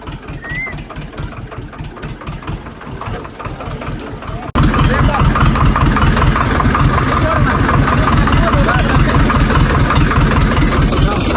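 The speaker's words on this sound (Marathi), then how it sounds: "हे आपला ट्रॅक्टर रेडी करतो तर घेऊन जाऊ" A tractor engine runs steadily with a rhythmic low chug, quieter at first and then abruptly louder and closer about four seconds in, continuing as a dense, loud throb.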